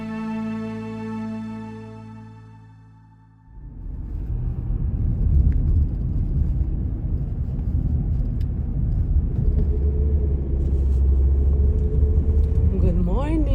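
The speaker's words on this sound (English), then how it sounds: "I am driving now to another corner of Lithuania" A car drives along a road in Lithuania, giving a steady interior rumble of engine and tyres that starts after a few seconds and continues without a break.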